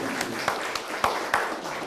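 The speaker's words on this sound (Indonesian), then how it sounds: "ya tepuk tangan" A short burst of scattered hand claps, several distinct claps a fraction of a second apart, moderately loud, with faint voices in the background.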